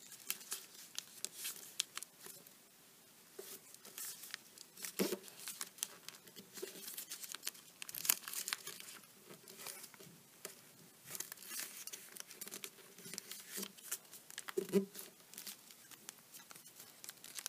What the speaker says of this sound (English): Take a single layer and fold it to the center.